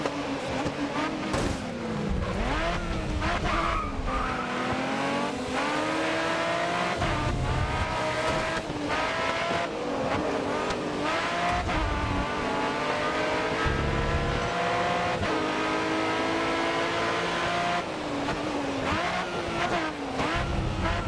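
Race cars roar through an endurance race in GRID Autosport, engines revving and shifting continuously with rising and falling pitch, occasional tire squeal, dense and loud throughout with no talk.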